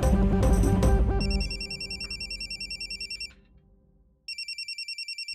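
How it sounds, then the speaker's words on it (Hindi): A telephone rings in repeated electronic trills, starting under a loud musical sting, dropping away briefly, then resuming in a clear, even burst of rapid pulses. "ये राम जी भाई ना जब तक मेरी जान नहीं ले लेंगे ना फोन करते ही रहेंगे"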